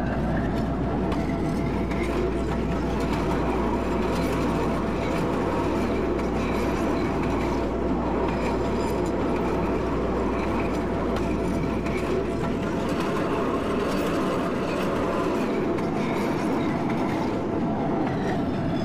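A Series 5000 CTA Red Line train in the Roblox game rumbles steadily along the track with a constant loud hum and faint rhythmic clatter, the low drone easing off near the end.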